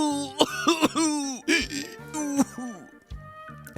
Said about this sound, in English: I tried to wheeze and made myself actually cough